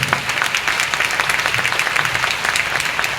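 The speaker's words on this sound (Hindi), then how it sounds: "उनके लिए जोरदार तालियां जिन पर आपकी नजर जा रही थी।" Dense, steady applause from a crowd at a manifestation retreat in Delhi, loud and continuous throughout with no talking.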